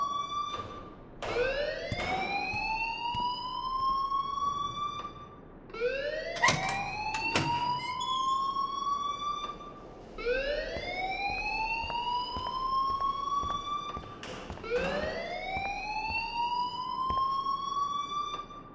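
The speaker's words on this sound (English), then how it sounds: "please turn off that alarm since that's your job" A loud electronic alarm in the video game Life Is Strange wails in repeating rising sweeps, each cycle climbing in pitch and restarting every few seconds, continuous and alone.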